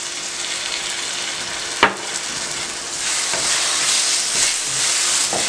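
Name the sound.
milk poured into hot pan of carrot semolina halwa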